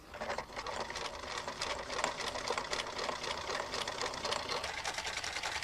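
A sewing machine stitches fancy patterns steadily, its cam-driven needle swinging sideways while the cloth feed varies, giving a fast, even mechanical whir and clatter heard close up and alone throughout.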